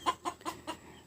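A hen clucks inside a village chicken coop while laying an egg, giving four short, close clucks in an even rhythm with no talking.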